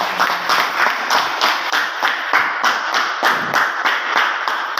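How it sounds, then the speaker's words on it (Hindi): An audience at a motivational gathering claps in a steady unison rhythm. Sharp, near, evenly spaced claps repeat roughly twice a second with no voices. "एक बार तालियां सभी के लिए।"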